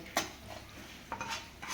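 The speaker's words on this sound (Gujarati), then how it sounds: "આ રીતે એને વઘારને ધીમે ધીમે હલાવવાનો છે" A spoon clinks and scrapes against a pan while a spice tempering for red chilli pickle is stirred in oil. Two or three sharp metallic taps sound close and fairly quiet, with no talking.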